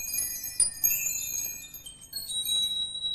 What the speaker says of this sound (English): we got a little wind chime and played a waltz right the way through it